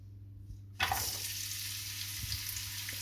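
Onions hit a hot pan and burst into a sudden loud sizzle after a quiet start, settling into a steady frying hiss with a few light stirring knocks, as onions start a Basque-style chicken and rice dish.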